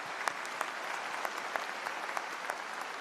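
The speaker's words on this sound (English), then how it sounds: "Join me in a round of applause." Steady applause from an audience at a university convocation ceremony, moderately loud and continuous, with scattered sharper claps standing out over the dense wash of hands.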